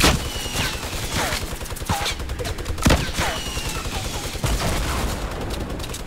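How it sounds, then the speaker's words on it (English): A minigun in Fortnite fires in dense, continuous bursts of rapid gunfire, mixed with other in-game shots and effects at a moderate level. "This person is shooting a minigun"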